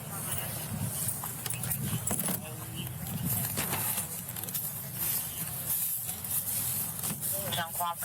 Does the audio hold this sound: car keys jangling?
yes